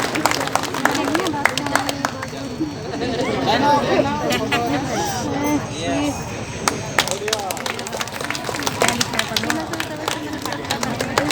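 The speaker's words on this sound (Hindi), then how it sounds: "धन्यवाद और एक बार ताली मार दो।" An audience at a church jubilee celebration claps in a steady patter of many hands, mixed with crowd chatter and a voice speaking over the applause throughout.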